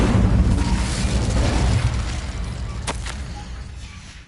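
A fire spell cast in Hogwarts Legacy: a loud whooshing burst of flame that swells at once and fades away over a few seconds, with a sharp crack near the end.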